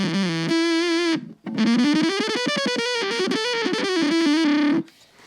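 A Boss Katana Mini X guitar amp plays through its synth effect, giving a buzzy, heavily processed tone to a sustained melodic guitar line. The playing is loud and continuous, with a brief dip in the middle.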